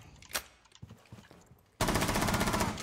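Gunfire in Rainbow Six Siege: a few scattered clicks and thumps, then a sudden loud, sustained burst of rapid automatic fire that carries on to the end.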